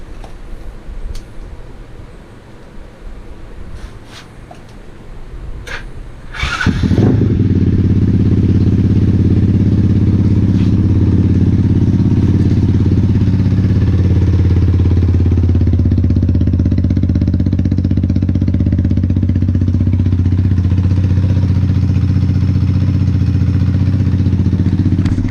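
A custom Sachs MadAss 125cc scooter engine starts after a few quiet seconds of clatter and settles into a loud, steady, close-up idle that runs unbroken to the end.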